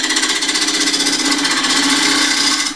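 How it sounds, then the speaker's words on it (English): Wood spinning on a lathe while a Continental spindle gouge rough-shapes the outside of a square-bottomed box or tray, giving a loud, steady, buzzing hiss of cutting that runs continuously and stops abruptly at the end. "for the rough shaping I'll use Continental spindle gouge"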